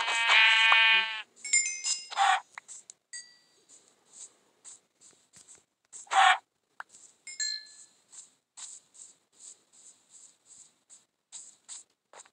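Minecraft sheep bleats in the video game, a loud bleat at the start and another mid-clip, amid a series of short clicky game sound effects and light tapping, with no speech.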